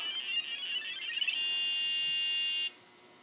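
A micro:bit board beeps while connecting, a high electronic tone that pulses unevenly at first, then holds as one steady beep before cutting off, close and clear with no talk.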